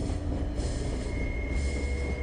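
A train rolls along railway tracks with a steady low rumble and rattle of wagons, a thin metallic wheel squeal rising faintly over the continuous roar.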